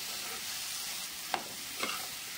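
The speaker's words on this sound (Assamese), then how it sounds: "এতিয়া আলুখিনি দি ভালদৰে 2 মিনিটমান সময় ভাজি ল'ম" Potatoes frying with onions in a pan, a steady faint sizzle broken by a couple of sharp stirring scrapes, close up and without talk.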